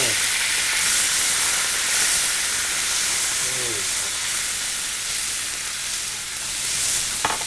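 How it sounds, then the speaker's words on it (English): Red wine splashed into a hot pan after searing braciole gives a steady, broad hissing sizzle and steam, loud and close throughout. "I'm going to add some red wine to that, and I'm going to deglaze this"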